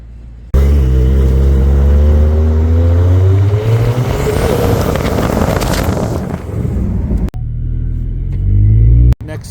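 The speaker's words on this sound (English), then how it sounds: "Check out the Turbo GT." Turbo GT sports car on a street, a loud close engine rumble that climbs in pitch as it accelerates, drops off briefly near the end, then surges again.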